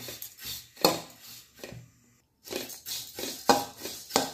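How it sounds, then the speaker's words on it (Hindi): Flattened rice (poha) being dry-roasted and stirred in a hot kadhai gives repeated scraping, rattling strokes of a spoon against the metal, with a brief pause partway through. "अब हम इसमें पोहा को डाल देते हैं और इस तरह से इसे रोस्ट करेंगे।"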